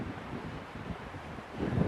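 Strong wind buffets the microphone at the seaside on the island of Bréhat, a steady low rush of gusts that swells near the end, with no voices.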